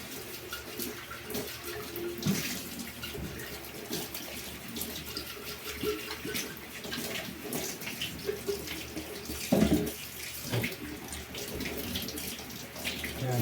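Tap water runs steadily into a sink while a baby's feeding bottle is washed, a continuous close rushing splash with occasional clunks and knocks of the bottle and parts being handled.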